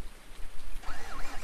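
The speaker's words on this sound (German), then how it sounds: "Es regnet, das ist nicht schön." Steady rain falls in the Farming Simulator 19 game, a dense, even hiss of drops on surfaces, close and continuous with no talking.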